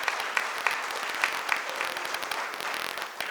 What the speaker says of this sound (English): A big round of applause for this momentous.